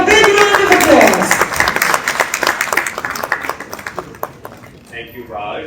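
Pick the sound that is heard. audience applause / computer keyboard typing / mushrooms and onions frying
audience applause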